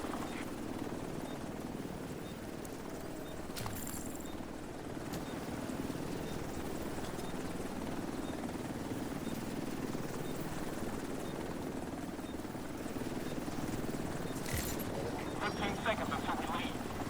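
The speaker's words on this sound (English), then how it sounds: "Chopper will leave in 30 seconds." Helicopter hovering for an extraction pickup in The Division 2's Dark Zone, a continuous loud rotor roar and engine whine held steady throughout, with faint game effects over it.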